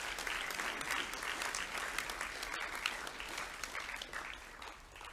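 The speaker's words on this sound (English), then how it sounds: "A round of applause as we congratulate our Champagne certificate recipients." An audience at a school academic awards ceremony applauds Champagne certificate recipients, steady sustained clapping from a large crowd filling the space evenly throughout, tapering slightly toward the end.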